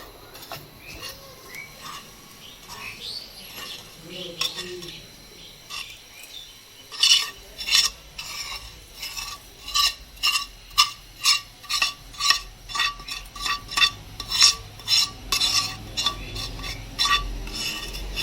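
Beetroot semolina halwa mixture stirred in a pan, a spoon scraping in a steady run of sharp, close clinks and scrapes that become regular and louder in the second half, with no talk.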